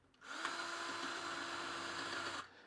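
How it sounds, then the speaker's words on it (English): A power drill runs in one steady, unbroken whir for a little over two seconds as it drives snare drum tension rods down toward the rim, close and clear, with no talking. "Now I drill these down"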